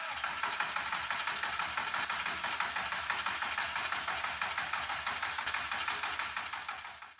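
A high-compression ABF 2.0 16-valve engine in a Volkswagen Golf cranks over steadily to build oil pressure, a fast, repetitive chugging whir that holds for several seconds and then stops. No one speaks.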